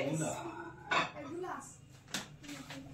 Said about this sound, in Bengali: এবার বোল বার করবো মাইক্রোওভেন থেকে।